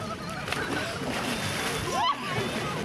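People plunge into an icy water hole cut for winter bathing in Cherkasy, with splashes and sloshing close by, one sharp splash near the end, under continuous talk and crowd voices.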